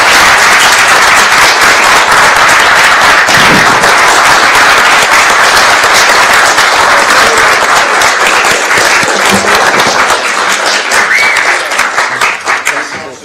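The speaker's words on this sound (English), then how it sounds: "I think a round of applause for Stuart for all the work he's done over the years" Applause at a full council meeting for retiring councillor Stuart Aglin, a dense, loud, sustained round of clapping from the room that carries on steadily and tapers slightly at the very end.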